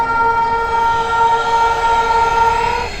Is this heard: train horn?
yes